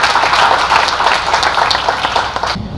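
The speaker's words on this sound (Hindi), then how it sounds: "एक बार तालियां बजाइए" Audience applause at a Hindi stage event, a loud dense burst of clapping from a crowd that cuts off sharply near the end.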